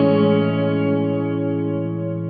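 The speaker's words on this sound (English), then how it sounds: "It's the reverb that is meant to emulate, all of the different hard surfaces that you would find in a church." A sustained electric guitar tone rings out through a TC Electronic Hall of Fame 2 reverb pedal on its church setting, a smooth, spacious wash slowly fading with no talking.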